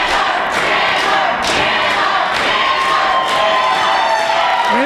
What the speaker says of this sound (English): The crowd is blowing the roof off of this place tonight